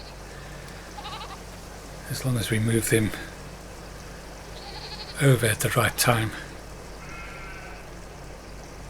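Sheep and goats bleat in Farming Simulator 22, two loud clusters of repeated wavering bleats a few seconds apart over steady background hum, with someone talking in between.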